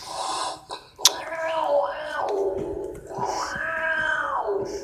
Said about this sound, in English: Dang cats.